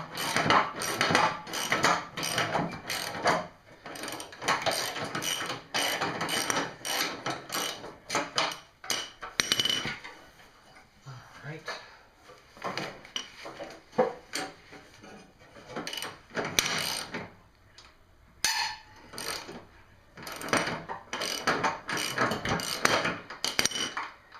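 A 9/16 inch ratchet works loose the bolts on a snowblower's skid shoes, giving steady rapid clicking with metallic clinks and handling noise throughout, close by and without talk.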